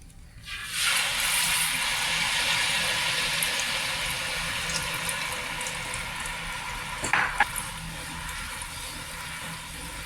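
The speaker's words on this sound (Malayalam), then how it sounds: "നല്ലതായിട്ട് ഇളക്കിക്കൊണ്ടേ ഇരിക്കുക" Dark liquid of jaggery and coffee, poured onto ghee in a heavy pan, hisses and bubbles loudly and steadily as it is stirred, with a brief clatter near the end and no talk.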